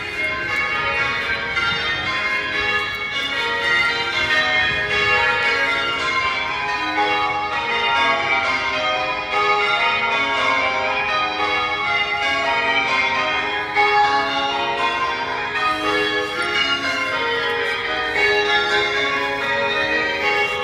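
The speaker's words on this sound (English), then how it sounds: "we love the bells" Church bells at Chelsea Old Church on the Thames in London peal continuously in dense, overlapping changes, steady and moderately loud for the whole stretch.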